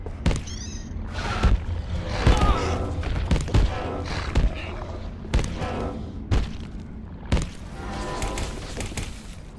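Grenade blasts in the survival game Abiotic Factor, several heavy booms and thuds spread across a busy firefight, punching loud through a steady rumble of game noise.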